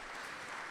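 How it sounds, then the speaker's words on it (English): Applause from an audience at a Bitcoin Amsterdam 2025 fireside chat, a brief, dense burst of clapping filling the room evenly. "You make people clap a lot."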